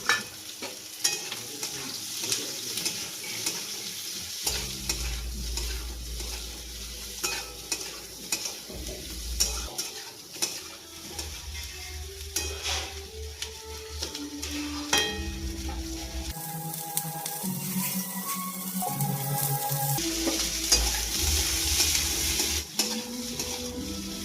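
Cumin and onion frying in a pan for paneer tikka masala gravy, a steady sizzle running throughout with intermittent clanks and scrapes of stirring utensils and some tonal background hum, close and moderately loud.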